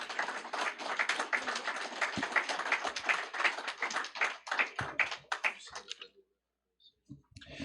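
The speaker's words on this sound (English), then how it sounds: "let's give them a big round of applause" A small audience at a career and technical education signing day applauds with a dense patter of claps for about six seconds, then it fades out and a few scattered sounds follow.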